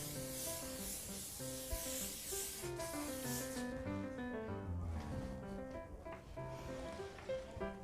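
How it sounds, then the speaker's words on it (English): Firm hold hairspray is sprayed onto hair finishing a sock bun, a steady close hiss lasting about three and a half seconds over continuous background music. "And to finish it off, we use Firm Hold Hairspray."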